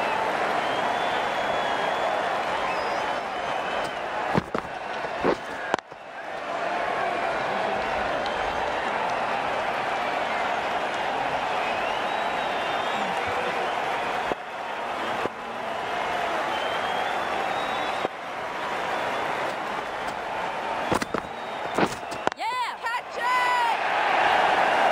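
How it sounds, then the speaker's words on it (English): A cricket crowd in Cricket 19 cheers and applauds in a sustained, loud wash of clapping and cheering, briefly broken by short dips, with commentary voices heard over it. "The crowd on their feet."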